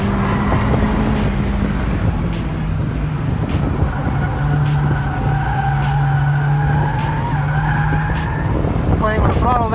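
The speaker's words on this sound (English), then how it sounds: "Playing with the throttle there, getting the back end to come around." A Honda Civic skids with its back end sliding under throttle, tires squealing in drawn-out wavering tones over a loud revving engine, close and sustained, with a voice speaking at the end.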